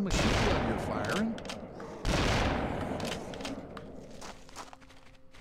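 Gunfire in the hunting video game Cabela's Alaskan Adventures sounds as two loud, close blasts with long rumbling decays, a crowded game soundscape beneath.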